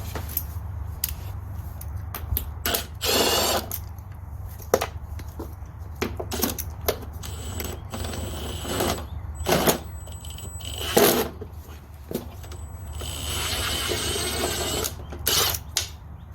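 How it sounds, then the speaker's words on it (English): A power drill backs screws out of a mower cover, with repeated short whirring bursts separated by pauses and handling clatter, over a steady low hum. "So let's get this drill and get these out."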